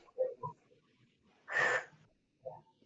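A single soft, breathy exhale rises and fades in a quiet room during a guided forgiveness session, with a few faint murmurs before and after.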